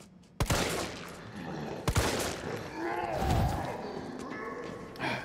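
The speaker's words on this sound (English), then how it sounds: "I think I like the old reliable pistol." Pistol shots in the Resident Evil 3 Remake video game, two sharp loud cracks a second or so apart over busy in-game noise and a low rumble, with a voice talking.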